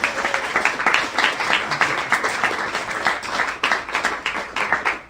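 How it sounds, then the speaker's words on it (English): A studio audience claps at the close of a live radio play performance, a dense, steady round of applause lasting several seconds at moderate level. "Please give yourselves a round of applause."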